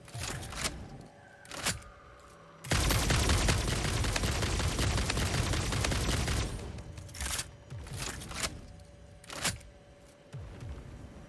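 Gunfire aimed at the player in the video game Satisfactory: scattered sharp single shots, then a dense several-second burst of rapid fire, followed by more isolated loud cracks.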